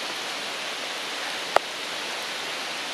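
Steady, even rain falls in a forest, a dense hiss of drops on leaves and ground, broken by one sharp, brief click midway.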